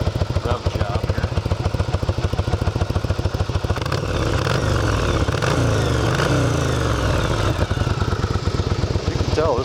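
A 1982 Yamaha Virago 750 motorcycle engine idles with a loud, steady rapid beat, then is revved up in a few throttle blips before settling back, close to the microphone throughout.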